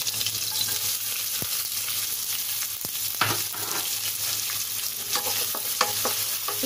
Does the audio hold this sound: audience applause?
no